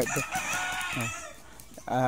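A reserve broodcock on a gamefowl farm crows loudly and close by, a strained, rising call in short bursts, with a voice speaking over it.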